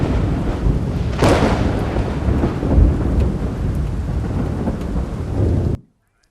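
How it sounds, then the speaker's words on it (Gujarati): Heavy downpour with rolling thunder in Khambha, Amreli, a steady loud roar of rain broken by a sharp crack of thunder near the start, continuing until the sound cuts off abruptly near the end. "ખાંભામાં ધોધમાર વરસાદ થયો છે"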